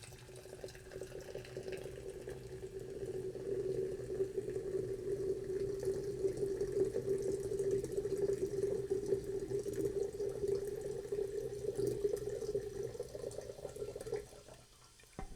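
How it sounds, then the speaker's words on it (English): Ghost Welch's Grape energy drink pouring steadily from its can into a glass, a continuous liquid rush for about fourteen seconds at close range that stops abruptly near the end, with no talking. "let's give this drink a pour"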